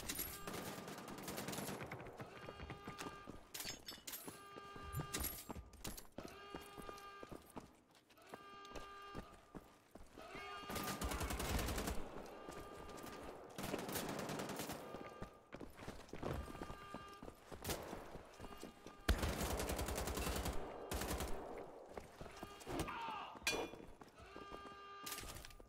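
Weapons fire in Wolfenstein: The Old Blood, a World War II shooter, comes as rapid bursts and repeated sharp shots over tonal game music and clatter, loud and continuous with denser volleys near the end.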